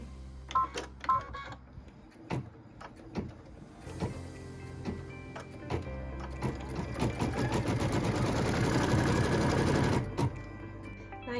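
A sewing machine stitches quilt block pieces, starting with a few separate clicks and short bursts, then running in a fast, even whir that builds and stops abruptly, close and clear with no talking.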